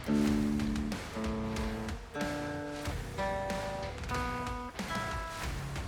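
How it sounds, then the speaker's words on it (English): Clean electric guitar playing a sequence of ringing chords, each struck and left to sustain, about one per second, with no talking. "Typical guitar tone, clean."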